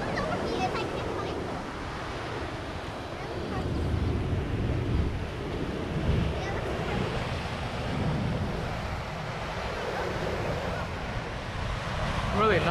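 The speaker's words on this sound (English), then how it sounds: "Waves are crashing, low tide." Ocean surf breaks on a beach at low tide, a steady wash of waves rolling in with wind buffeting the microphone, moderately loud and continuous.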